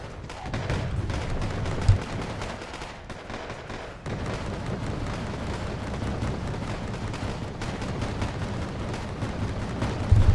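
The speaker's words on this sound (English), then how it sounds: "Vildly firing at the enemy." Autocannon gunfire from a Vild anti-aircraft vehicle in the video game Wargame AirLand Battle, dense rapid bursts of shots running continuously with a brief lull and heavy thumps, loud and close.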